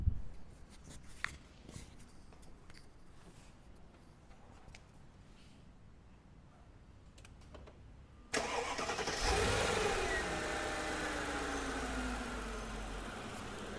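Quiet shuffling and small clicks, then the 5.0-litre V8 of a 2004 Mercedes-Benz S500L W220 cranks and roars to life, settling into a steady, fairly loud idle up close.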